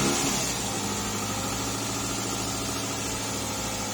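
A car engine running steadily at idle during a battery cranking test, a continuous low rumble with even vibration and no talk over it.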